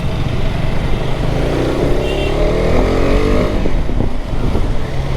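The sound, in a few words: KTM Adventure 250 motorcycle riding in city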